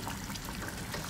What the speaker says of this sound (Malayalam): ഇനി ഇത് അരക്കപ്പ് വെള്ളം ഒഴിച്ചിട്ട് വേവിക്കാൻ വെക്കാം